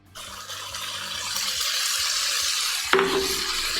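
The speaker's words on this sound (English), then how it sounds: "And then we're adding crushed tomatoes to it." Crushed tomatoes are added to a browned mixture in a pan while cooking omurice, raising a rising, hissing wet sizzle that builds steadily, with a sharp scrape of a utensil near the end.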